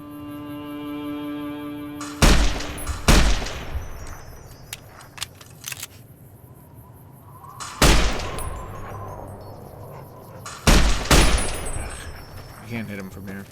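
Gunfire in Fallout: New Vegas at Nellis Air Force Base, with several sharp, loud shot bursts spaced a few seconds apart over a steady background of game ambience and faint tones.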